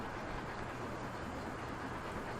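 A train rolls along in Transport Fever 2, giving a steady, even rumble of rail noise at moderate level with no breaks across the short stretch.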